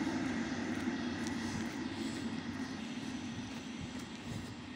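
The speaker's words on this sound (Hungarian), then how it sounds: "Na, jön egy vonat is." A train passing at a distance, a broad steady rumble that slowly fades over a few seconds, heard alone without talk.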